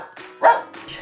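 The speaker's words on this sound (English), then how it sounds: "including your silliness of barking at strange things in the apartment." A pet dog barks indoors in an apartment, a single loud sharp bark in the middle with quieter yips around it, close to the listener.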